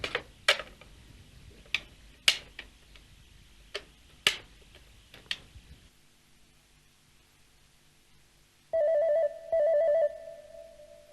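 A telephone rings in two short electronic bursts near the end, after a stretch of scattered ticks and clicks in an otherwise quiet room.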